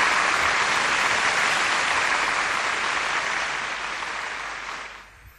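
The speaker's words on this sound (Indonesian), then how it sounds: "Kasih tepuk tangan juga dong biar semangat nih Pak Anto nih." Steady audience applause at a church family retreat session, a dense even wash of clapping that holds strong for about four seconds, then thins and fades out near the end.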